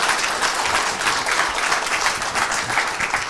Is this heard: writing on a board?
no